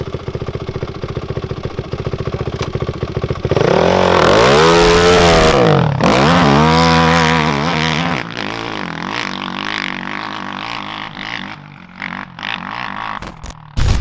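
A Honda TRX 450R ATV and a modded Maverick X3 Turbo side-by-side run loud and close, engines idling roughly, then revving hard in sweeping rising and falling pitch before settling back to a throbbing idle with throttle blips.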